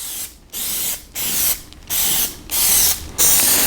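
Plasti Dip spray can coating a wheel, five hissing bursts of spray separated by short pauses, close and loud, with no talking.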